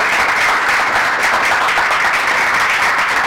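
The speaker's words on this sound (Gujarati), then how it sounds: "આપણે ખૂબ તાળીથી તેમને અભિવાદન કરીશું" An audience at a Gujarati literary program welcomes poet Jawahar Bakshi to the stage with loud, dense applause. The clapping is steady and sustained throughout, with no voices over it.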